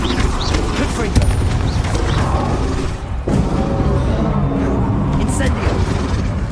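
A Confringo fire-blast spell cast in Hogwarts Legacy, a dense, loud rumbling burst of booms and crackles over continuous game noise, with speech mixed in.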